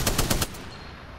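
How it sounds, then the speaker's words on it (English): A Spitfire light machine gun firing in Apex Legends, with four rapid, loud, evenly spaced shots in under half a second, then a fading tail. "The Spitfire, one of my favorite guns to start off with. It's an LMG."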